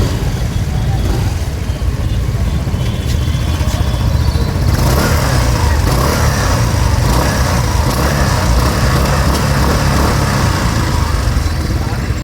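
A 2026 Hero Xoom 160 maxi scooter's engine and exhaust run loud and close, a continuous buzzy drone that brightens and swells about halfway through as it revs.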